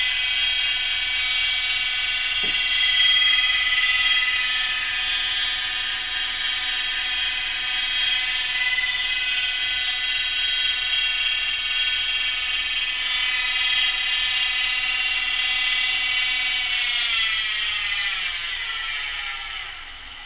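PM-25MV milling machine spindle spinning at its full 2500 RPM, a steady high whine with layered tones and low hum, close and continuous, the pitch wavering slightly near the end.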